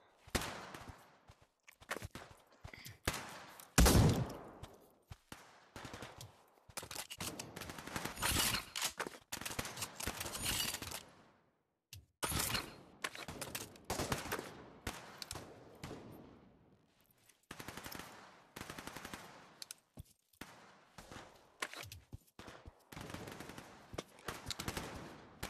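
Rapid, sharp gunfire bursts out in repeated volleys during a match of the Pavlov Shack video game, with shotguns in use, close and fairly loud, with brief pauses between the shots.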